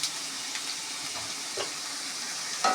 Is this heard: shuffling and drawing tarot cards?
no